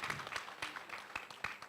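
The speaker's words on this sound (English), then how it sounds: "I think we deserve a round of applause." Quiet applause from an audience at a product launch event in Abuja, Nigeria: a short, faint spatter of clapping with a few distinct louder claps.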